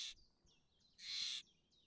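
A Steller's jay squawks in the video game Wingspan, two harsh raspy calls close and clear, separated by softer chirpy echoes against a quiet background.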